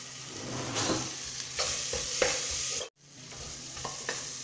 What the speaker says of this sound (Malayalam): ഇപ്പോൾ ഇവിടെ ഇഞ്ചി വെളുത്തുള്ളി പച്ചമുളക് നന്നായിട്ട് മൂത്തിട്ടുണ്ട്